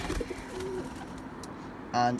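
Racing pigeons coo softly through a murky background, with a louder burst of cooing near the end and some faint voice-like sound mixed in.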